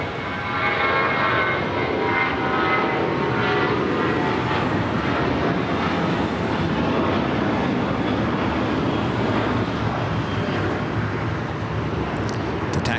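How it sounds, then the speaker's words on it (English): An American Airlines Boeing 737-800 jet at LAX roars steadily and loudly for the full length, a continuous broad engine rumble and whine with no voices over it. "That was American Airlines flight 2388 heading to Vegas in a 737-800"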